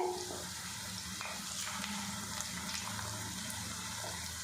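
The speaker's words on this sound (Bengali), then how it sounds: "কিছুক্ষণ এটা আমি ভাজা ভাজা করে নেব" Crispy snacks made from raw potato fry in a pan with a steady, close hiss and sizzle that holds at an even level throughout, with no talking.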